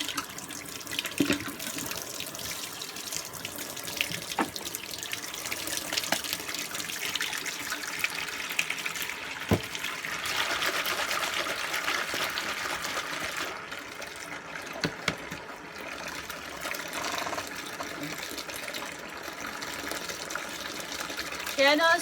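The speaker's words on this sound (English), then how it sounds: "Come on, hot water, where are you?" Hot water runs steadily from a tap into a sink during household cleaning, a continuous close hissing gush that surges louder midway, with a few clinks of plastic items and occasional talk underneath.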